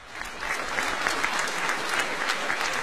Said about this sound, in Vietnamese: xin quý vị dành một tràng pháo tay để chào đón sự xuất hiện của